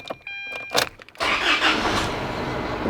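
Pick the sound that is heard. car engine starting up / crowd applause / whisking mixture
car engine starting up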